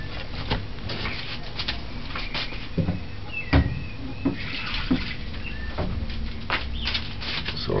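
Rice and peas are rinsed by hand under water, giving a soft ongoing trickle and patter broken by irregular clunks and knocks from handling the container.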